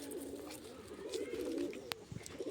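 Pigeons coo in soft, low repeated calls close by, a faint steady murmur with a brief sharp click and light rustle near the end, no voices.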